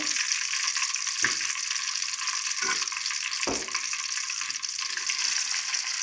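Onions frying in a pan until golden, for a banana-blossom sugar sambol, give a steady, close, bright sizzle throughout, broken by a few soft low thumps of stirring.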